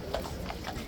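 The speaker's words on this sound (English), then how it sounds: "Police horses again, guys," Police horses in riot gear clip-clopping on pavement during a tense protest standoff at Horse Guards in London, a few faint hoof strikes spaced through steady crowd and street noise.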